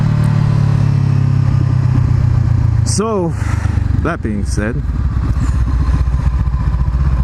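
A Honda CBR500R motorcycle fitted with a Two Brothers exhaust runs with a loud, steady engine drone throughout, while someone speaks briefly over it.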